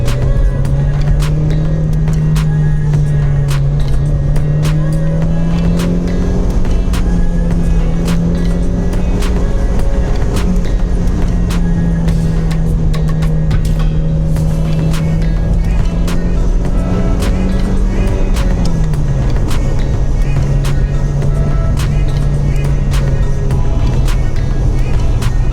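A car engine drones steadily while driving a moor road to Reeth and Grinton Moor, its low hum rising and falling with gear and speed changes, loud and continuous with a voice briefly heard.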